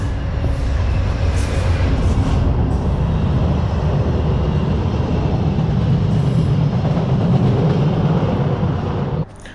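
A train on railway tracks, heard during a freight train-hopping trip from Ontario to New Brunswick, gives a continuous loud rumble and roar with rattling, holding steady throughout before cutting off abruptly at the end.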